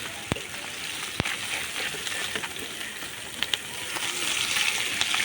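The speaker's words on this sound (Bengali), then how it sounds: "এই যে মাছগুলা এরকম করে ভেজে নিয়েছি" Tengra and pabda fish fry in oil in a pan, a continuous soft crackling sizzle with scattered sharp pops and clicks, fairly faint and close, growing a little louder toward the end.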